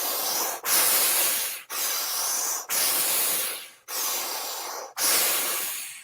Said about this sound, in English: So almost like a saw-like quality of breath.